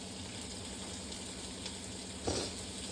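Four green chillies drop into a hot pan of oil and sizzle steadily, a soft continuous frying hiss with a brief sharper crackle near the end, and nobody speaks.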